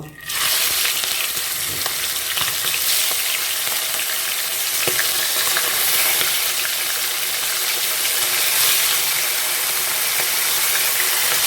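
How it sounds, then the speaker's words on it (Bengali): Prawns hit hot oil with a sudden loud burst, then the oil keeps up a dense, steady crackling sizzle with a few faint knocks, close and unbroken throughout. "তেল গরম হয়ে গেছে, এবার একে একে চিংড়ি মাছগুলো"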